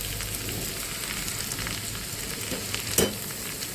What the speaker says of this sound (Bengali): এভাবে চাউমিনটা দিয়ে ভালো করে নাড়তে হবে